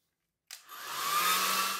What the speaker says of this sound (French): utiliser un sèche-cheveux